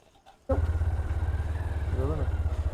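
A motorcycle engine starts up and idles with a steady, throbbing chug as a night ride from Kolkata to Siliguri gets under way, loud and close, with a voice briefly audible over it.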